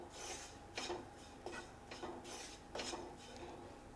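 A utensil scrapes and stirs flour fried in ghee with cardamom powder in a pan, giving soft rhythmic rasping strokes with a few sharper scrapes about every half second, close and quiet.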